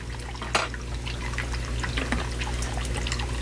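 Dechlorinator liquid pours and trickles into a guppy pond in a steady low splash over a constant hum, with a brief sharper splash early on.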